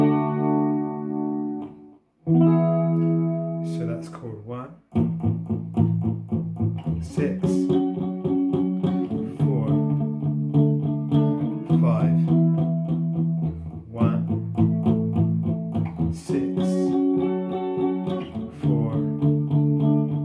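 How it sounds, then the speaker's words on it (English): Electric guitar with effects strumming a 1-6-4-5 pop chord progression, sustained chords changing every couple of seconds, steady and moderately loud with no talk over it. "Now let's play a 1-6-4-5 and hear how that sounds by comparison."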